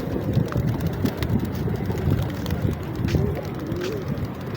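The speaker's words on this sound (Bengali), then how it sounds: "দেখেন কবুতরগুলো কিভাবে আসতেছে।" Pigeons coo outdoors in the Maldives with wind buffeting the microphone, soft low calls repeating steadily beneath a broad rushing background.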